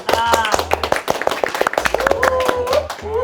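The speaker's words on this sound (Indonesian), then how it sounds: "Tepuk tangan dong." Hands clap in quick, sharp bursts during a lively podcast conversation, the claps scattered irregularly and close up while several people keep talking and laughing over them.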